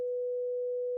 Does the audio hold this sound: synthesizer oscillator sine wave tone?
yes